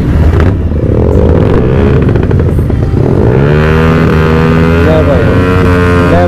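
Superbike motorcycles riding out from DLF Garden toward a cafe, a loud close engine drone with rising and falling revs and wind buffeting, as if heard from a rider or a group of bikes.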